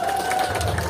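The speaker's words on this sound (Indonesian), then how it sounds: "Tepuk tangan buat warga Cijolang" Audience applause at a jaipong performance in Cijolang, a brief dense patter of clapping mixed with crowd noise.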